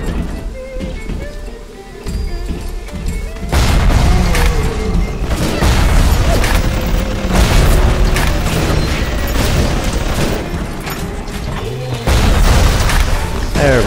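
A gun turret in the video game Bioshock explodes in a loud, heavy boom, amid continuous rumbling blasts, mechanical clanks and scattered pops that keep going after the initial quieter stretch.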